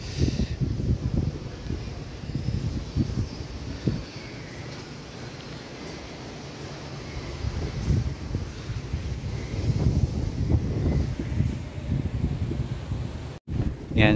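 Wind blowing steadily across the platform of an elevated LRT1 station, Dr. Santos (Sucat) station on the Cavite extension, a continuous broad rushing hiss buffeting the microphone, with no one speaking.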